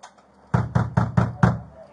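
Police officers serving a search warrant pound on a door: five heavy, evenly spaced bangs, loud and close, with no talking in between.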